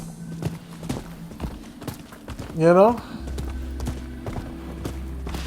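Horse hooves in the video game Rise of the Ronin clop in a steady, regular beat of sharp knocks while a voice briefly speaks over them.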